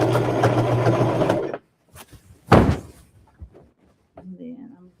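A sewing machine finishing a rag quilt runs in a loud, steady whir for over a second, then stops, followed by a couple of dull thumps and soft handling noises with a voice faintly in the background.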